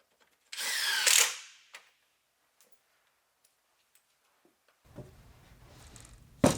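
A power drill drives square-head screws into a wooden face frame for a Murphy door, one loud whirring burst followed by a short blip, scattered faint clicks and a rougher second run at the end.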